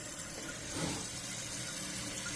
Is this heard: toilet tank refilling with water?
yes